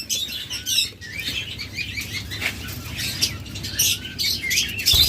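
Caged pet lovebirds, budgerigars and cockatiels chirp and squawk constantly at close range, with wing flapping mixed into the busy high-pitched chatter.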